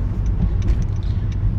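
Inside a moving car, a steady loud low engine and road rumble fills the cabin, with no talking.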